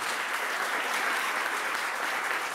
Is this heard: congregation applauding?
yes